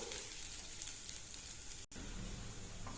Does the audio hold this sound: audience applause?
no